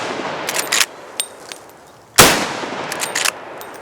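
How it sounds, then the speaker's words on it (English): One loud Marlin 45-70 lever-action rifle shot outdoors, a sharp blast with a ringing decay, framed by lighter metallic clicks and handling noises before and after. "this is an awesome rifle. It was just a good time shooting it"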